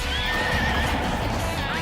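Horses neigh and gallop in the racing video game Pocket Card Jockey: Ride On, with a shrill whinny over a dense, constant rush of hoofbeats and game sound.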